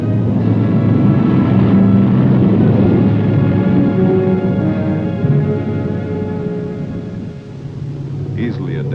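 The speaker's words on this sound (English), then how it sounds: "Taking off is the R-4D, one of the original Antarctic workhorses of the air." An R-4D aircraft, a ski-capable Antarctic workhorse, takes off with a loud, steady engine roar and deep rumble that holds throughout and eases slightly near the end.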